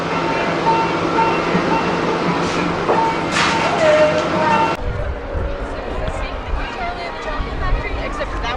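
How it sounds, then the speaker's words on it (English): A steam train at Walt Disney World rumbles and rattles along with clanking noise and short whistle-like tones, while people talk over it. "Why not hop aboard the Walt Disney World steam train?"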